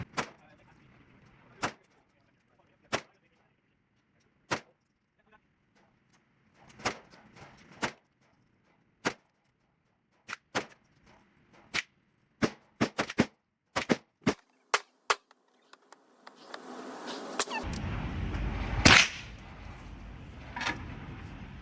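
A 9mm pistol firing OZK 124 ammunition at an outdoor range, roughly twenty sharp, loud reports. They come singly at first with long gaps, then crowd into quicker strings. A louder rumbling, jostling noise follows near the end.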